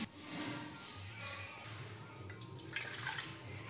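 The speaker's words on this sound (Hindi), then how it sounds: "पानी डालते हैं पहले" Water is poured into a pot to make tea for two or three people at a home in Kashipur. The pouring is a faint, steady splashing hiss lasting a few seconds, with no speech over it.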